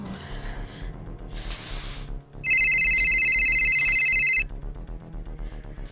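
A phone ringtone sounds loudly for about two seconds as a sustained electronic tone, amid a soft, rhythmic background beat.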